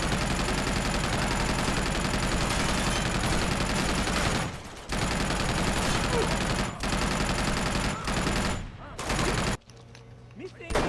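Sustained minigun fire in Uncharted 2, a dense continuous roar of rapid shots running for most of the span, broken by brief pauses before cutting off near the end.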